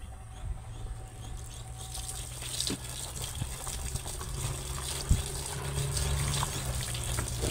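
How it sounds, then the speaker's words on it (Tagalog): Tiny alamang shrimp being washed under running water, a continuous gushing splash with light pattering and sloshing, close by and without talk. "Ang alamang ang aking uhugasan."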